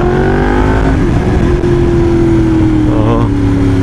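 A Yamaha R1M sport motorcycle accelerating hard on a racetrack, its engine a loud, continuous, rising whine that stays close and dominant throughout, overpowering any rider chatter.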